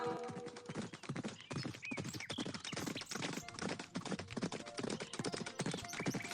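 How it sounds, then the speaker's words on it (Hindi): Rapid, steady clip-clop of a horse galloping in a race in a Hindi cartoon, with dense hoof beats running continuously and fairly loud throughout, without any talking. "दौड़ शुरू होते ही विक्रांत का घोड़ा हवा से बातें करने लगा"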